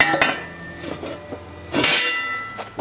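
A welded metal manhole cover for allotment drainage is set into its concrete frame, giving several sharp clanks and knocks early on, then a louder scraping metallic clatter near the end, close and without talk.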